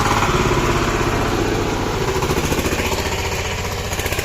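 Tractor engine labouring while ploughing a field, a loud, steady throbbing drone with pulsing rhythm running throughout, close by and alone.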